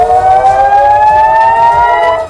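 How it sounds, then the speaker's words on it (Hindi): A loud air raid warning siren in Israel during the Israel–Hamas war wails steadily, its tone slowly rising and falling, continuous and piercing with no voices. "सायरन बजने लगे थे।"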